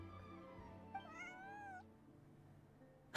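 A cat meows in a Genshin Impact game scene, one drawn-out rising and falling call rather close and clear over a low steady background hum, followed by a short sharp noise at the end.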